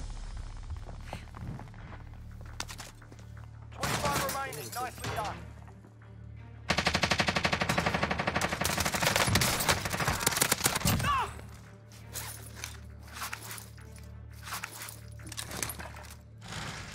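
MP5 submachine gun fire in Call of Duty Warzone, with loud rapid bursts and sustained automatic volleys, clinking shell casings and footsteps between them, and some game sounds underneath.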